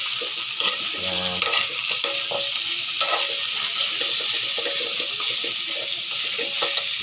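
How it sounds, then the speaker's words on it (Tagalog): Food frying for humba, sizzling loudly and steadily in a pan with frequent clattering stirs and scrapes throughout, nearby and continuous. "Ipa-fry natin ito. Parang mag-golden brown"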